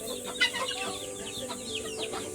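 Guinea fowl calling inside their cage in a garden, with several rapid, harsh clucking chatters and squawks close by, one sharper cry near the start, and no speech.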